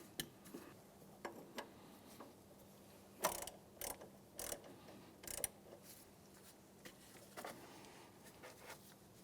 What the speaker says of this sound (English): We'll go ahead and tighten this down.